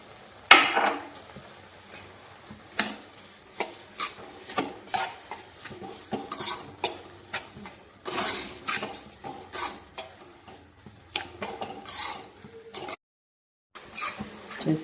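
Semiya vermicelli and sugar are stirred in a pan as semiya kesari is made, with repeated scraping strokes and metallic clinks of a spoon against the pan. The irregular rhythm continues close up, with no talk.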